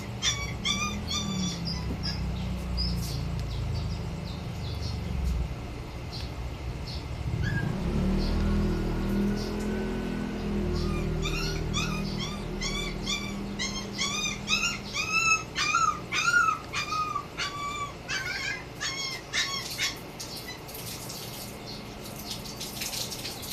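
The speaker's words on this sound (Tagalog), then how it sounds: "Pasensya nyo na yung ingay. Mga aso lang yun." Dogs bark in a rapid, repeated burst after a stretch of low rumbling noise, with some whimpering, fairly close.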